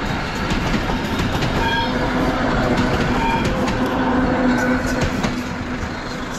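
A small train passes close by on a roadside track in Bulgaria or Hungary, a loud steady rumble of wheels with rhythmic clatter and faint squealing tones, fading slightly at the end.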